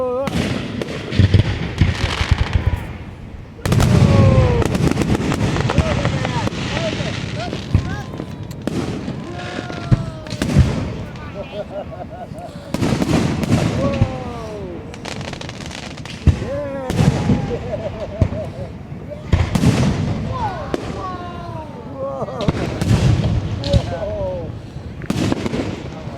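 Fireworks going off close by in rapid, overlapping bursts of loud bangs, crackles and whistling streaks that continue throughout, with people's voices and exclamations mixed in among the explosions.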